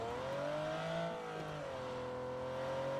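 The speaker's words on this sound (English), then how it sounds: "I hear another car." A car engine in PUBG revs steadily with a smoothly rising then falling pitch, loud and continuous, as a vehicle drives close by.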